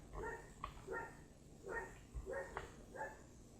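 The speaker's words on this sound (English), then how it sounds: "My dogs are barking today." Two dogs, a German Shepherd and a lab mix, bark in a series of about six short, moderate barks spaced roughly half a second apart, slightly distant and set against a low background hum.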